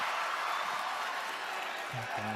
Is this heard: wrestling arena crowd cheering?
yes